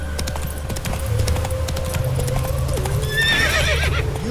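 Horse hooves clip-clop at a steady gait in The Witcher 3, a game horse named Roach, with a whinny near the end, the hoofbeats close and clear over faint ambient game sound.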